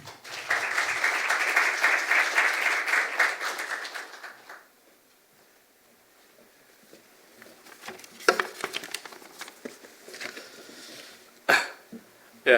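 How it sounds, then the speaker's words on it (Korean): An audience at the first graduation ceremony of the Asan Academy applauds to welcome its vice director. Full clapping fills the room for about four seconds and fades out, leaving a quiet hall with a few scattered knocks and shuffles. "김석근 부원장님을 박수로 모시겠습니다"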